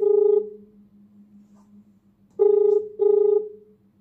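Three electronic dialing tones of a Samsung Galaxy phone call placed from a Windows PC, a long beep, a pause, then two more in quick succession, over a faint low hum.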